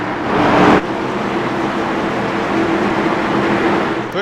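ARCA stock cars on the pace lap at Texas Motor Speedway in the iRacing video game, a dense steady engine rumble from a rolling field, loud and continuous with no voices.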